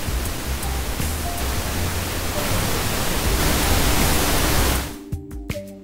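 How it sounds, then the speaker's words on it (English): Broad hissing noise grows gradually louder in steps, then cuts off abruptly near the end, leaving a few faint clicks. "Each time the number of sound sources doubles, the noise level increases by 3 dBs"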